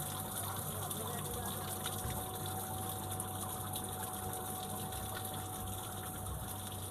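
Water gushes steadily through channels dug in a gem mine pit in Ratnapura, a continuous broadband rush with a low pump-like rumble running underneath, close and even throughout.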